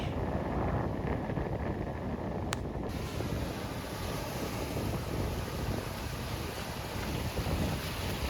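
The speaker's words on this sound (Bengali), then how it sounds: "এত বাতাস।" Strong wind at Marina Beach, Chennai, blasting across the microphone as a constant loud roar and buffeting, with surf mixed in beneath it.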